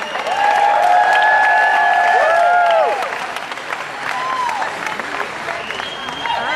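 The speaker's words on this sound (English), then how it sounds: "Give Cody a round of applause, everybody." A large crowd at a business launch event in Denver breaks into sustained loud applause with cheering and shrill whistles, then tapers to softer clapping and crowd murmur.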